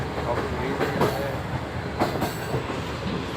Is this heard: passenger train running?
yes